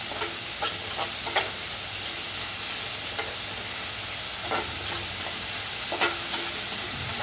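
Sliced onions with half a teaspoon of salt fry in a pan, a steady close sizzle broken by repeated scraping strokes of a spoon stirring them through.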